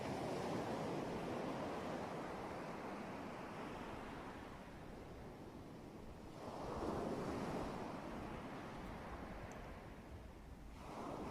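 Surf rolls onto the shore in long swelling surges, a dense loud rush that dips and rises twice across the stretch, alone with a touch of wind.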